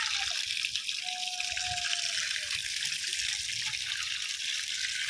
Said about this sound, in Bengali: দেখো কলের থেকে জলটা পড়ে ছাদটাও ধোয়া হয়ে যাবে